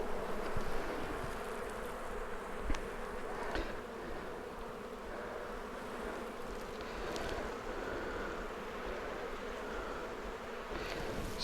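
Honey bees buzzing steadily around a booming, fast-growing hive, a dense continuous drone with a few louder passes close by, and no talking.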